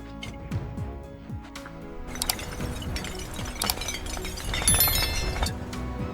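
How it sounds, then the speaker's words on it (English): Glass bottles from a recycling load tumble down into a pile, a dense continuous cascade of clinking and shattering glass, loud and close, with sharp bright impacts throughout. "They release the load, sending a cascade of bottles tumbling down."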